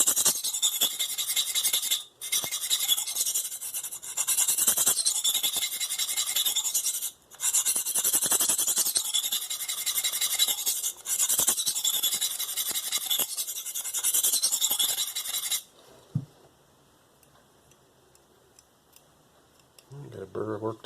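A knife blade drawn repeatedly over a 100/240 grit aluminum oxide sharpening stone, giving bright, gritty scraping strokes in a steady series with short pauses, then falling quiet near the end before a faint low thump.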